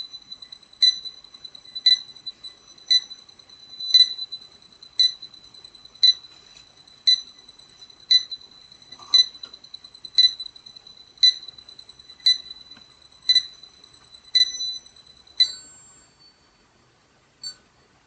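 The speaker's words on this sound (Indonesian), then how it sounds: "Ini untuk bunyi buzzer dengan frekuensi dekat." A high electronic buzzer on a NodeMCU parking monitor beeps steadily for a near distance, about fifteen short evenly spaced pulses, then a final brief shift in pitch before stopping.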